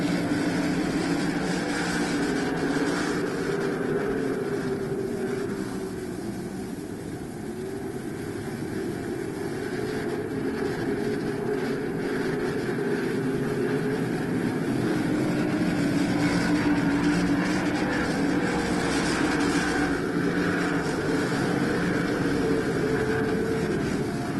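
Sprint cars roar as the field takes the green flag on a dirt oval, a steady, dense engine drone with rising throttle that holds loud and continuous throughout.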